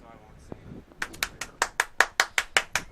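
A small group claps in a steady rhythm at a football game, about a dozen sharp hand claps spaced evenly over two seconds, fairly close and clear after a brief quiet start.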